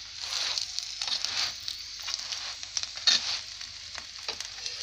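A cauliflower-stuffed gobhi paratha sizzles steadily in a hot pan, a soft continuous fry with faint crackles and a brief louder spatter near the middle, close and fairly quiet with no talking.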